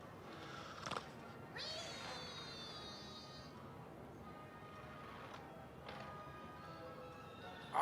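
A cartoon cat meows several times from a cat-and-mouse show playing on a television in a room, fairly faint and distant, with drawn-out mewing cries spread across the stretch and a brief louder bump near the end.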